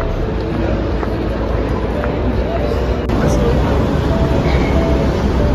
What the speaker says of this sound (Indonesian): Ya, kita naik kereta bisnis yang